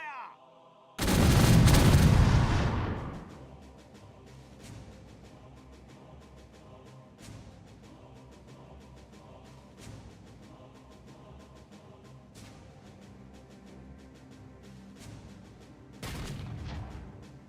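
A sailing ship's right-side broadside of cannons fires in the pirate game Caribbean Legend, a huge booming volley that rolls for about two seconds, then gives way to sparse distant shots and crackles before a second heavy salvo near the end.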